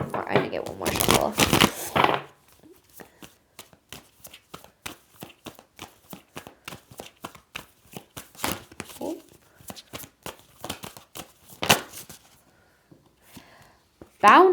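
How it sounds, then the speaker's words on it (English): Tarot cards are shuffled close by, a dense riffling burst at the start followed by a long run of quick, crisp card flicks and snaps, a few louder bursts later. "I'm going to get one more shuffle."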